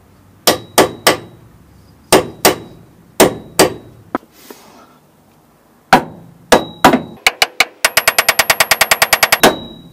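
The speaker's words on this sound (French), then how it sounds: "Alors là, je vais devoir taper avec un chasse-goupille." Sharp metallic hammer blows drive a pin punch on car suspension components, first in spaced pairs and clusters, then a rapid, loud, even series of strikes near the end, with no talking.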